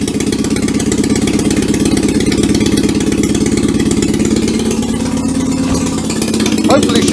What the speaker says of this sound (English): I'm just going to run the engine sans exhaust, so it's going to be loud